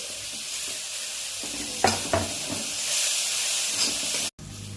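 Tomatoes go into a hot pan with sautéed chillies for paneer bhurji, a steady hissing sizzle broken by a couple of sharp clatters from stirring, then a brief cut before the frying resumes.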